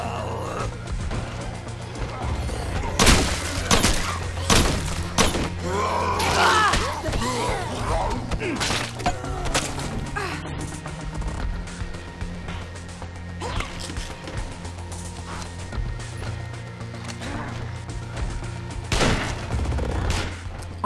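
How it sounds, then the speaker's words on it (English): Gunshots fired at a zombie in State of Decay, a string of loud, sharp reports spread across a steady low game drone, with clanks and rattles mixed in and several bursts clustered near the start. "I waste like 10 bullets trying to kill this one zombie"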